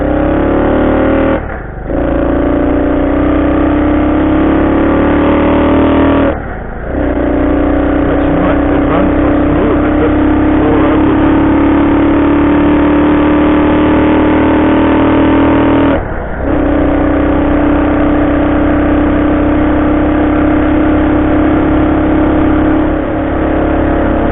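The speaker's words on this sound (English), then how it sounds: "it idles really nice now, though. There's no issue at all with the idling." A Honda CT90 small motorcycle engine idles steadily and loudly up close, a continuous low throbbing hum with a few brief dips, no voices.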